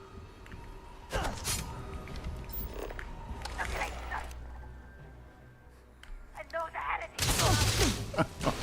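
Gunfire in the sci-fi video game Starfield, with bursts of sharp shots and impacts among game noise, mixed with voices talking over the action.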